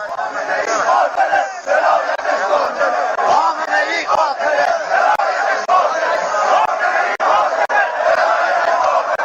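A large, furious crowd of protesters in Iran chants and shouts in a loud, continuous mass of voices with rhythmic surges, heard close and steady throughout.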